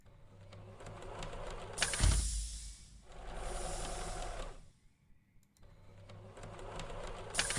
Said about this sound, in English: Is he sewing?